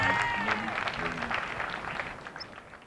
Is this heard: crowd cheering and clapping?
yes